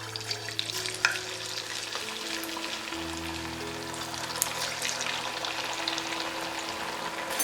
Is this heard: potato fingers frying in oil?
yes